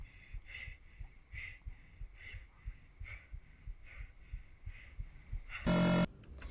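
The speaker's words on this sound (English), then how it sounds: "You can hear his heartbeat from how intense it was for him to like get out of the water" A character's heartbeat pounds after he struggles out of the water, a steady thudding pulse of roughly one beat per second, close and low, ending in a sudden loud burst.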